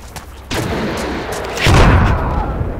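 Loud gunfire and explosive booms crackle through a Project Reality Battlefield 2 battle, a sharp blast followed by a heavier rumbling impact, close and dense with no talking.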